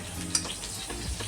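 Green chillies fry in a pan for a spicy Maharashtrian brinjal dish, a soft close crackling sizzle with a sharp pop near the start and quiet stirring.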